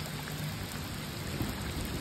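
Rain falling steadily outdoors during a carp fishing trip, a dense close hiss of drops pattering on surfaces with faint low rumbling underneath, constant throughout and with no voices.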